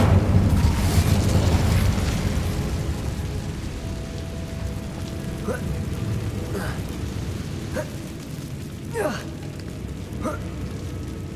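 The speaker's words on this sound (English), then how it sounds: "Incendio." Fire spell bursts in Hogwarts Legacy: a dense, roaring rush that slowly eases, with several sharp crackling pops and flares scattered through the middle and end, heard alongside steady in-game ambience.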